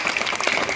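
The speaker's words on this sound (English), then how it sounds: "really we need to give him a round of applause" Steady applause from an audience at an elocution event, dense continuous clapping filling the whole moment without pause.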